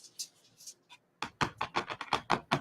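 Taut canvas stretched over a frame tapped with fingers, giving a short series of hollow, drum-like thumps, a few light taps at first, then a steadier run of louder knocks close by.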